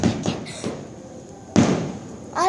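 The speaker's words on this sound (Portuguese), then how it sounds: "Vocês estão ouvindo esse barulho por causa dos fogos, não é tiro." Festival fireworks explode in a few sharp, booming bursts spaced about a second apart, fairly close and loud, with quiet gaps between them.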